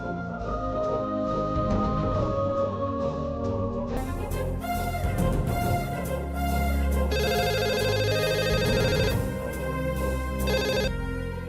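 A telephone rings with an electronic melodic ringtone in a Telugu TV serial, its tonal pattern repeating and shifting over about eleven seconds, with no talking.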